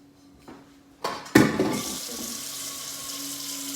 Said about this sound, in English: fill that up maybe about halfway with water for me